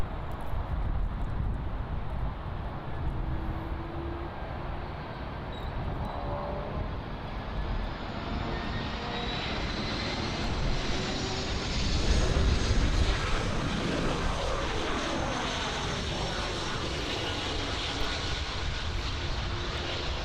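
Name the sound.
American Airlines Airbus A319-100 arriving at Miami airport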